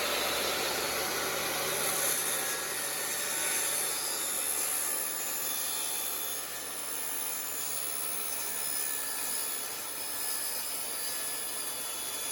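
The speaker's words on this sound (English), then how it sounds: "The cuts that were done with a table saw, and you can see how easy it is to mark it and cut through it" Table saw cutting LifeProof luxury vinyl plank flooring during a bedroom renovation, a continuous loud high-pitched whirring and grinding that holds steady for over ten seconds with no speech.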